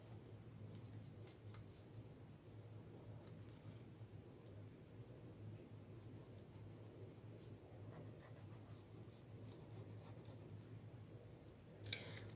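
A pen scratches across paper, writing a Bible verse note during a study of Esther, with faint continuous scribbling and small soft ticks over a low room hum, close and quiet.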